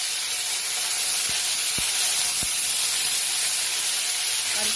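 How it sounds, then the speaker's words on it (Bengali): Black mustard seeds, dried red chilli and curry leaves sizzle in hot oil in a kadai, a steady loud frying hiss with a few sharp pops, no voices. "প্রথমে আমি কড়াইতে কালো সর্ষে দিলাম, তারপরে শুকনো লঙ্কা দিলাম"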